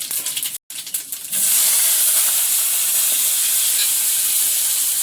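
Panch phoron and dry red chilli hit hot oil in a home kitchen: after a brief dropout, a loud, steady, broadband sizzling hiss takes over and continues evenly to the end.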